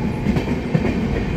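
The 13126 Sairang–Kolkata Tri-Weekly Express rumbles steadily into Murshidabad Junction, with a continuous low rail-car roar and a soft clickety-clack of wheels over the joints.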